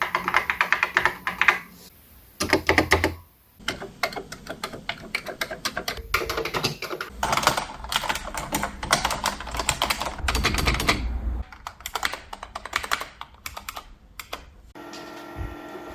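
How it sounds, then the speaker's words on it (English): Clicky vintage computer keyboards being typed on: dense, rapid runs of sharp mechanical key clicks, close and fairly loud, with brief pauses between bursts. "Typing on vintage clicky keyboards."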